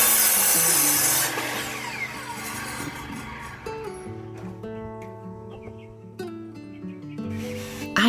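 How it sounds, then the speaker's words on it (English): Wooden seat boards for a tree bench are cut with a saw, a rough rasping cut followed by ringing tones and scraping as the boards are handled nearby, with no talk. "he can then cut the remaining seat boards and the apron boards"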